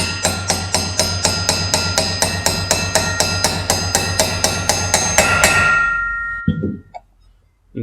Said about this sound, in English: Once that's in, then you can just hammer it in.